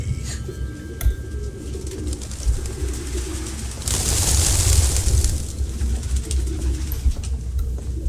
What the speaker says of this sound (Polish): No jest i gołębi tutaj troszeczkę.